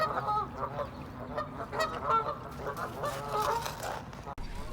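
A flurry of raspy, overlapping honks and squawks from several ducks, continuous and fairly close, with a brief knock near the end.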